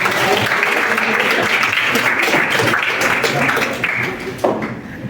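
Classroom students clapping for a classmate in a school lesson, a sustained patter of applause with voices murmuring underneath, tapering off near the end.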